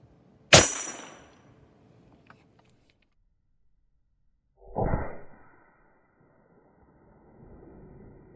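Gumballs are fired from a gun outdoors in the snow: a sharp, loud crack, then silence and a second duller shot a few seconds later, with faint rustling at the end.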